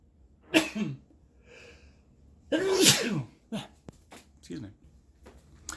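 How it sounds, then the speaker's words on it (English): In a small home workshop, a person lets out a single loud sneeze with sharp breaths just before it, then some softer breathing and small mouth sounds. The sneeze is close and stands alone. "About to sneeze."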